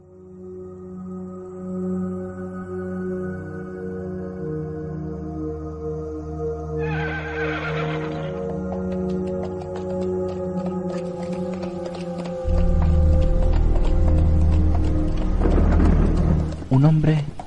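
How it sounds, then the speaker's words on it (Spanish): Horse neighs and hoof sounds play as a sound effect over a steady low rumble like distant thunder and rain, with a louder low surge near the end and a voice narrating over it. "Un hombre iba a caballo."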